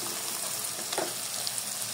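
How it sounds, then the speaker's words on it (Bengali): Onions frying in oil in a pan until reddish, a soft continuous sizzle close by with a faint brief stir partway through, quiet and without talk. "এই যে দেখুন আমি পেঁয়াজটাকে লালচে করে ভাজছি।"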